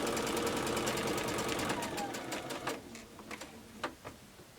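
Stitching a quilt edge cut with a scallop template, a sewing machine hums along at first, then slows into a string of separate needle clicks and thumps, fairly faint.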